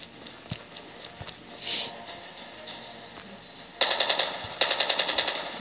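Call of Duty Mobile gunfire comes in two quick rattling bursts near the end, moderately loud over quiet game ambience.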